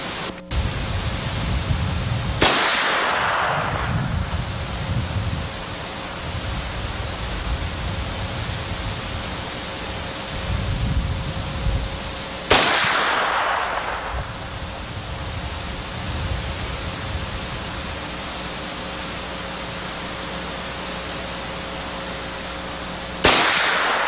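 Four sharp, loud shots from a .460 carbine or pistol cartridge, spaced irregularly with long gaps. Each crack decays quickly into a constant rushing background noise.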